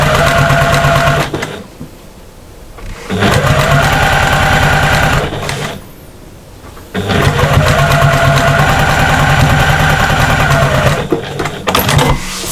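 A sewing machine stitches through thick layers of patchwork bag fabric in long, loud, fast bursts of mechanical chatter, with two short pauses between runs and no talking.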